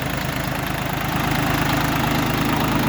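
An Orion RD-244 tractor with a KM-385 engine idles close by, a steady dense diesel chug with continuous rhythmic knocking and no voices.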